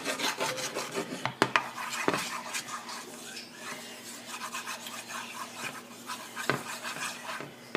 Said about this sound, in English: we're just going to take our spoon and kind of help the butter melt